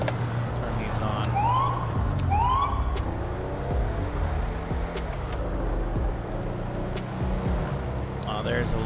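Police car siren from the video game GTA V with the LSPDFR mod, wailing in repeated rising sweeps early on before fading under game engine and road noise; a voice talks over it.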